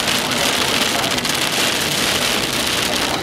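Heavy rain pours steadily and loudly during an Oklahoma tornado storm, a dense continuous hiss of drops hitting surfaces with no voices.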